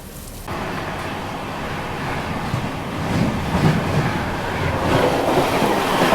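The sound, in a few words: train departing Etawah in rain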